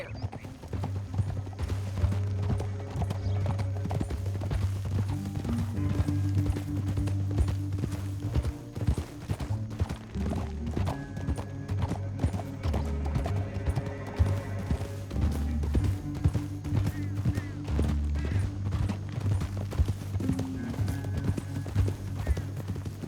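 Rhythmic clip-clop of horses' hooves trotting steadily over a low droning musical score in Red Dead Redemption 2, continuous and close, with a brief whinny.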